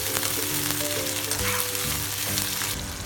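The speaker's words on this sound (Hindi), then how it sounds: "अब इसमें मैं ये एप्पल डाल दूंगी। एक 2 मिनट के लिए हम इसको सौटे करेंगे।" Apple pieces sauté in very hot oil in a pan, a loud continuous sizzle with light stirring sounds and no talking.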